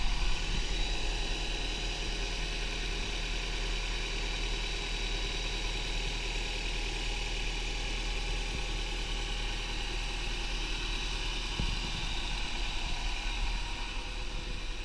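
A Honda Prelude engine idles steadily after a cold start, a smooth, even hum heard up close with faint high whine, continuous and unaccompanied by talk.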